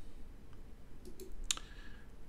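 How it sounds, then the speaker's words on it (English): A computer mouse button clicked quickly a few times while navigating Microsoft Teams, faint and close against a quiet background with no talking. "Oh boy, I'm clicking around too much."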